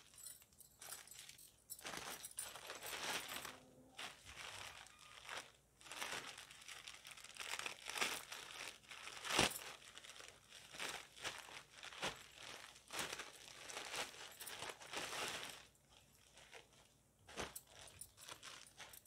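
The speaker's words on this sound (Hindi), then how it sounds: "ओह सब खोलना पड़ेगा, पूरा टेप, पूरा ये अंदर से टेप लगा हुआ है।" A taped package of curtains is torn open, with crinkling plastic packaging and tape ripping in busy, irregular bursts close to the microphone, no speech over it.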